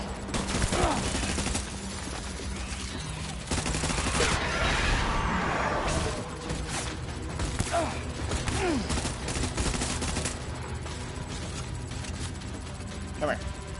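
Bursts of automatic gunfire in the video game Death Stranding, repeated rapid volleys over game sound and music, with a voice talking over the shooting.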